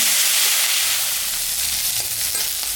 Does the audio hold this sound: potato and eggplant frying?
yes